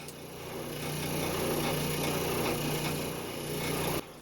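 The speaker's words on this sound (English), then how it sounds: "this is an abrasive bit that takes some wood off, not much, but also does some polishing and smoothing out." A rotary tool fitted with an abrasive bit smooths and polishes a wooden crankbait fishing lure, giving a steady, close, gritty whine that runs for about three seconds and then cuts off abruptly.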